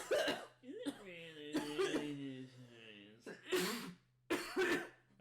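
Several harsh coughs and throat-clearing bursts come in quick fits, close and loud, broken by a strained, voiced gasp between them.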